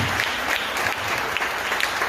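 A congregation at a religious talk applauds newcomers, a brief burst of many hands clapping, dense and fairly loud, with no pause in the short span.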